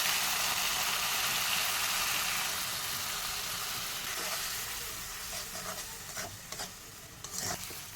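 Spice paste sizzles and fries loudly in a hot pan for an egg and potato curry, a steady hiss that eases and thins halfway through, with a few stirring scrapes near the end.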